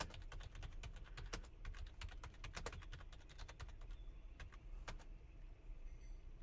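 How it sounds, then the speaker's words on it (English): Typing on a computer keyboard produces a rapid, steady stream of fairly close key clicks with brief pauses, heard on its own over a faint low background hum. "I'm typing in all caps because I'm so pissed."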